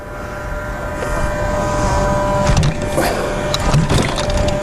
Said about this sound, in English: We're starting up, so we'll let you watch this Wildcat take off